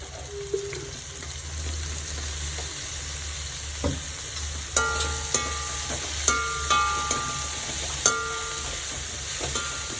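Dried prawn powder roasting in oil, a steady soft sizzle with a spoon scraping and clinking against the pan at intervals.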